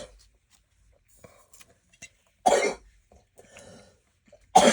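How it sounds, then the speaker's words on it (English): A person coughs in a few sharp, close bursts separated by quiet pauses, with faint rustles and a clink of utensils between them, during an art journaling session. "Sorry for the coughing fit."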